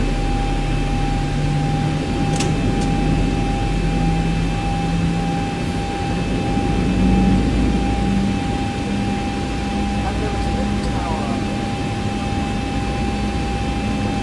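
Boeing 737-800 jet engines spool for takeoff in the X-Plane 11 flight simulator, a constant low roar with a steady engine hum and faint tonal whine, loud and unbroken, no speech.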